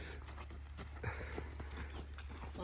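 A mare's hooves clip-clop steadily as she is ridden, with low rumbling background noise and no one speaking.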